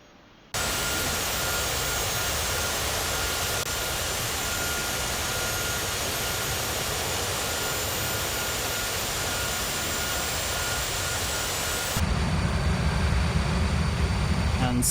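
An SR-71 Blackbird's huge jet engines run near idle in the X-Plane 12 flight simulator, a steady broad roar and hiss that holds constant throughout, then deepens with added low rumble near the end.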